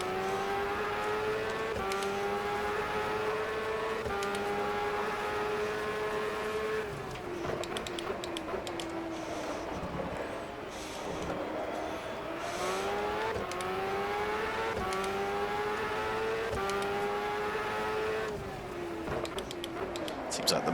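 Race cars in the Superleague Formula 2009 video game drone steadily with layered engine whine, pitches rising and falling through gear changes, continuous and fairly loud under intermittent commentary.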